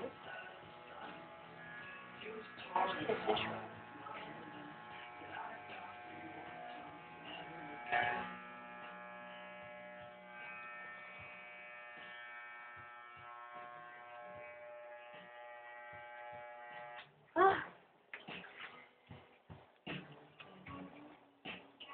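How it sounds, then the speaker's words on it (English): Electric hair clippers cutting long hair at home, a steady close buzzing hum with pitch shifts and brief scraping bursts as the blades move through hair, running almost continuously. "normal hair cutters don't take this long"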